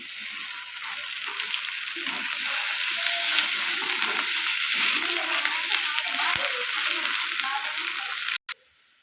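Potatoes and carrots with ginger-garlic paste fry in a pan with a constant close hiss of hot oil, a few faint stirring scrapes within it, and a sudden cutoff near the end.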